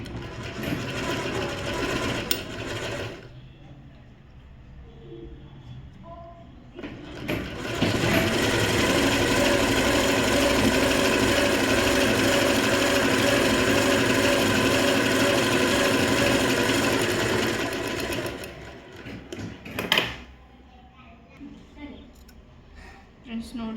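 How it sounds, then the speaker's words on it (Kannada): A sewing machine stitches blouse pieces with a lining fabric in a steady, loud, continuous whirring run of about ten seconds, with someone talking before and after. "ಮಿಷಿನ್ಗೆ ಆಯಿಲ್ ಬಿಟ್ಟರೆ ಸೌಂಡ್ ಬರಲ್ಲ"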